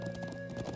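Rhythmic clip-clop of horse hooves while riding in the video game Trails of Cold Steel, quick steady footfalls under a held musical drone, faint and brief.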